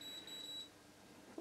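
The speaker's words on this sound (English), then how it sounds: "hopefully you can hear the beeping" A multimeter's continuity beeper sounds a steady high-pitched tone for about two-thirds of a second with a probe on ground while testing a PS3 board, quiet and alone, then cuts off.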